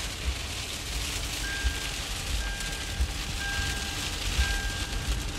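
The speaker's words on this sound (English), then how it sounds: "this rain is really loud" Heavy rain from Hurricane Ian pours down in a dense, steady roar, with faint periodic beeping tones and occasional low thumps beneath it.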